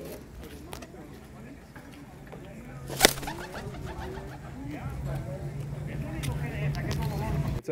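Roller pigeons at an indoor bird sale coo softly in repeated low throaty phrases, with a brief clatter midway and people talking nearby.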